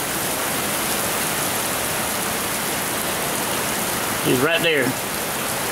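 Heavy rainstorm with wind whipping: a dense, loud, continuous roar of rain pouring down, with a brief spoken remark near the end.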